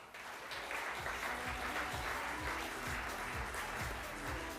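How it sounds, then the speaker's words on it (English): A crowd claps steadily and continuously for a marathon runner at a media call, a dense, even wash of applause with no voices over it. "Keep that applause going"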